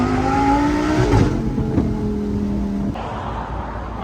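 A Lamborghini engine revs loudly and steadily up close, with rising harmonic tones and a sustained roar that eases slightly toward the end.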